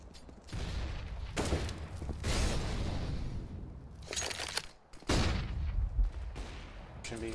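Flashbang grenade and gunfire during a competitive Counter-Strike: Global Offensive match, loud bursts and sharp reports with brief gaps, dense and close, with players talking over the action.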